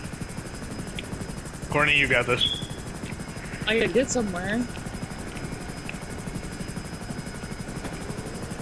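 A helicopter in a video game drones steadily with a constant rotor buzz throughout, while people talk over it in two short bursts.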